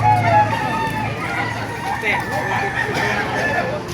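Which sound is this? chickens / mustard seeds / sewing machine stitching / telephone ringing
chickens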